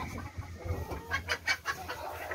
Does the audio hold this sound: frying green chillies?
no